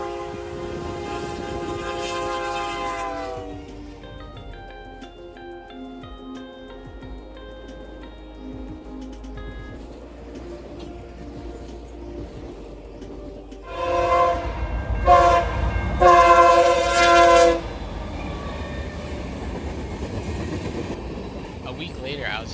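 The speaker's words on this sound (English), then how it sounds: "the CN Office Car Special, or OCS, flew past on its way to Toronto" The CN Office Car Special speeds past on a dead move to Toronto along the Strathroy Subdivision, sounding loud, sustained horn blasts. Between blasts comes a quieter rolling rumble, then a final powerful burst of horn as it passes close by.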